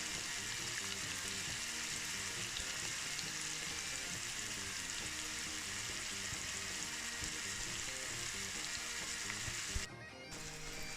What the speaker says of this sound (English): fry the sausages lightly until they're brown